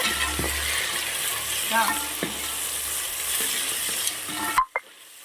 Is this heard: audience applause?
no